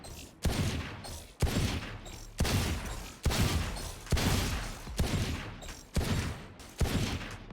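Sheriff pistol shots fired at hard bots in the video game Valorant: a steady series of about nine loud, sharp, close reports, each followed by a short decaying tail, evenly spaced under a second apart.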